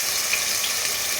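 Cubed onions and crayfish fry in hot oil for okra soup, giving a loud, steady, close sizzle with no breaks.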